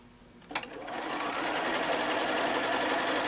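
A sewing machine stitches straight through the layers of a quilt, starting with a brief clunk and then running as a steady, close, continuous whir.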